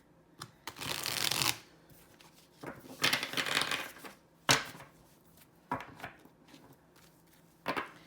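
Several bursts of a tarot deck being shuffled, riffling loudly at close range, separated by short pauses and small taps of the deck being handled.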